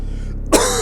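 One short, loud cough, close to the microphone, bursting out after a moment of quiet room tone.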